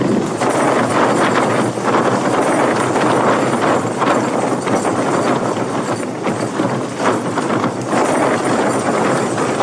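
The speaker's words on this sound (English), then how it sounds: "Winds are pretty violent now." Loud, continuous roaring wind with rushing gusts and flapping buffeting of a tent at night while wild camping near Ilkley, close to the microphone, with no talking.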